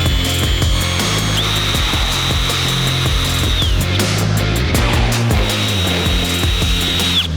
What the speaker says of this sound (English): I'm gonna have the guys drill those two holes